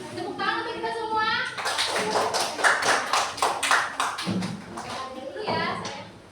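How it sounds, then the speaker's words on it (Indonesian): Children in a third-grade classroom clap together in a burst of rapid, dense applause lasting several seconds, with a teacher's voice and kids' chatter before and after it. "Tepuk tangan untuk kita semua."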